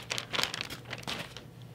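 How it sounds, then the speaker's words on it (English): Plastic bag from a wig's soft-pack packaging being handled, several quick close crinkles and rustles in irregular bursts, fairly quiet, no talking. "inside the soft pack is going to be a plastic bag with a label on it"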